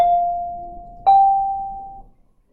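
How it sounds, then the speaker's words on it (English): A school bell signals the end of fifth period with two clear electronic chime tones, the second higher than the first, each ringing out and fading in a quiet classroom. "that's a bell at the end of fifth period"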